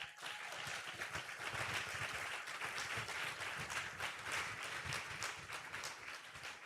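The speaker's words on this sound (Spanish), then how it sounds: "Y si le va a aplaudir al Señor, hágalo bien." Church congregation applauding during a Spanish-language sermon, a dense steady wash of many hands clapping that holds for several seconds at moderate level, with no voice over it.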